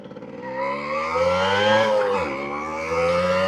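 A moped engine revs hard in second gear and climbs in pitch, whining loudly as it accelerates through a gear, then dips slightly and rises again.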